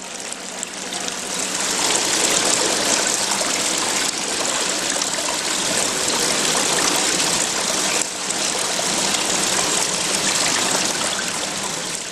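Water falling down a drain in an art installation, a continuous rushing, splashing gush at steady volume with no pauses and no voices.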